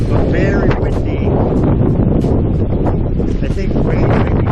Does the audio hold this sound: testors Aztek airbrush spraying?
no